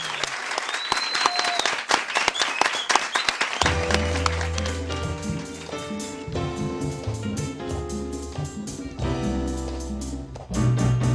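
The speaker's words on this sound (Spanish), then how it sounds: "Un fuerte aplauso para Gigantería." A television studio audience applauds Gigantería with loud, dense clapping and a few whistles for several seconds before music swells up and takes over.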